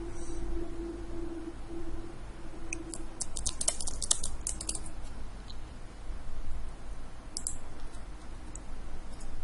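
Quiet typing on a computer keyboard, with a short cluster of crisp clicks and taps in the middle and a few more keystrokes later, set against a low steady background hum.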